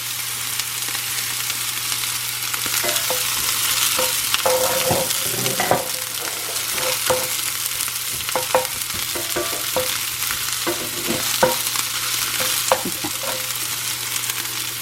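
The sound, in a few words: onions frying in oil in a skillet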